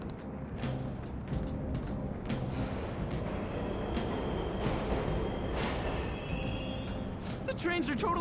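Subway trains rumble steadily through an underground station in Persona 5 Royal, a continuous low mechanical roar with rattling that holds for several seconds, with a brief sharper clatter near the end.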